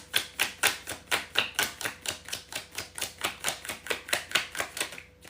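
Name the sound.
shuffling a deck of cards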